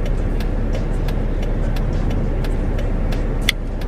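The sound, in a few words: car being driven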